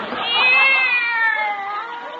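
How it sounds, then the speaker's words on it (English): A cat meows from inside a desk drawer, one long drawn-out wavering cry that rises and then slowly falls, fairly clear against a quiet room. "There's nothing in there but a cat."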